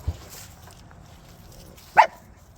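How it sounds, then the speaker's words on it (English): A small dog lets out a single short, sharp bark near the end, outdoors by a grapevine, with faint background noise and no talking. "Watch out, you got a little dog."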